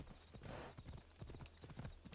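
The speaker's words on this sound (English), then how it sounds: "I think as I come near a town, the horse is slowed down." Horse hooves clip-clopping on a path in the Assassin's Creed Odyssey video game, a quick steady rhythm of close, distinct hoof strikes with a soft whoosh early on.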